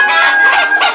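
A rooster on a Sonali poultry farm crows and clucks loudly right up close, in a single brief, harsh burst with no voices around it.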